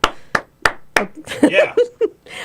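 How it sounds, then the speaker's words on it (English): One man claps alone in a radio talk-show studio: four sharp, evenly spaced claps, followed by voices and laughter. "One lone man clapping."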